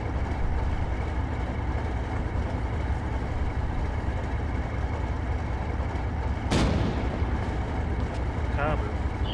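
In Arma 3, an armor-piercing tank shell fires with a sharp, sudden blast over a constant rumbling engine drone, followed moments later by a faint, distant impact; voices speak over the scene.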